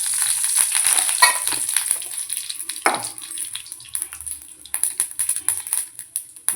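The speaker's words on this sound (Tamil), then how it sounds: "போட்டு தாளிக்கணும் ஃப்ரெண்ட்ஸ்." Spices crackle and sizzle in hot oil while tempering for kollu rasam (horse gram soup), with sharp popping bursts growing denser toward the end; close and fairly loud, no talking.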